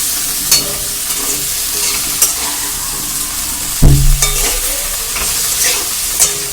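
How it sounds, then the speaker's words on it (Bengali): Potato pieces fry in hot oil in a pan, with a constant sizzle broken by several sharp scrapes and knocks of a spatula stirring them, one louder clatter near the middle. "এবার ভালো করে আলুগুলোকে আমি কষে নেবো"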